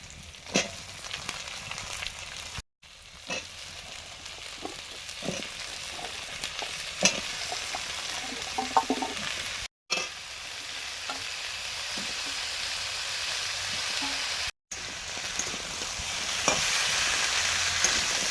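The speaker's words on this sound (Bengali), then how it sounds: "ডাঁটা আলু কিছুটা ভাজা হবে পেঁয়াজের সঙ্গে।" Potatoes and vegetable stalks fry with onion in oil in a home kitchen, a continuous close sizzle with frequent clattering stirs and scrapes of a utensil, briefly cut by short gaps, with no voices.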